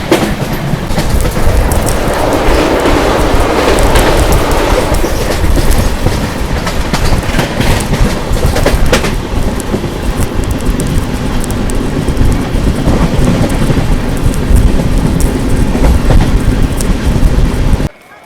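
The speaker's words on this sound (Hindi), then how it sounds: "सामने अपना WF7 लोकोमोटिव" The Jharkhand Swarna Jayanti Express (12874), hauled by a WF7 locomotive on a scenic Jharkhand route, rolls along steadily with a loud, continuous rumble of wheels and carriages and occasional clatter over rail joints, heard from on board throughout.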